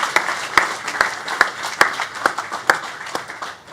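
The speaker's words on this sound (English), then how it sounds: "let's give another round of applause for all the progress the team's made" An audience at a JumpStart 2024 demo day showcase claps in sharp, closely spaced bursts, a lively round of applause that stays loud and even throughout.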